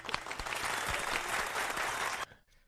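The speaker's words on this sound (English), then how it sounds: "Hey, JG, full applause for JG." Audience applause for a show guest, a dense sustained clapping that fills the room loudly and evenly, then cuts off abruptly near the end leaving a short quiet tail.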